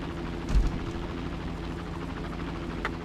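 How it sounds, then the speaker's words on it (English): A hovering helicopter in the police tactical video game Police Quest: SWAT 2 (1998), heard as a steady low rotor drone throughout, with a brief louder thump near the start. "Chopper 1 moving into position."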